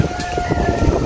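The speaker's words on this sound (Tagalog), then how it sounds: "lakas ng hangin" Strong wind gusts blow around a house roof at night, a loud continuous rushing with a faint tonal whine running through it.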